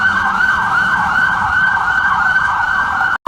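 A loud, close fire engine siren wails continuously, its pitch rising and falling in a steady cycle, cutting off abruptly at the end.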